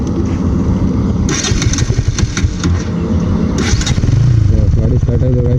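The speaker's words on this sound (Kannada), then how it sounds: "ಗಾಡಿ ಸ್ಟಾರ್ಟ್ ಆಗಿದೆ" A Bajaj Pulsar NS200 BS7 motorcycle engine runs close by at a steady idle, with irregular mechanical ticks and a few brief bursts of throttle, then a deeper, louder rumble toward the end.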